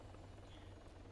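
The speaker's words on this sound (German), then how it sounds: "Scheiße, der Heli startet schon." A helicopter starts up in a video game, heard as a steady, faint low drone with a broad buzzing rotor hum throughout.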